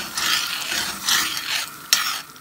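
Butter and red paprika being stirred in a pan for Armenian tolma, with repeated scraping strokes of a spoon, a soft sizzle underneath and one sharp clink near the end.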